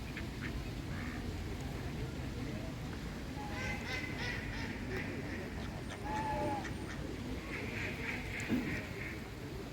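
Ducks quacking repeatedly in scattered bursts, moderately near, over a steady outdoor murmur with voices in the background, in a park in Ivano-Frankivsk.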